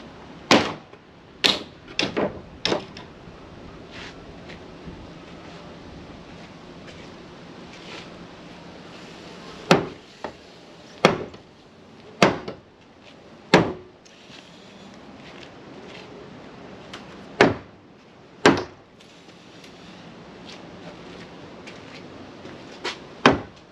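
Sharp wooden knocks as a nailed header board is hammered out of a house frame, about a dozen loud, separate whacks with irregular pauses, some in quick pairs, with no talk.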